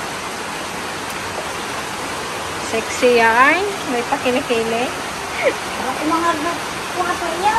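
Steady, heavy rain from a sudden downpour roars as a broadband wash throughout, with people talking over it from around the middle onward.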